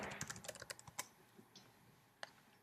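Quiet keystrokes tap out a quick run on a computer keyboard, then a few scattered clicks follow after a pause, close and crisp with no talk.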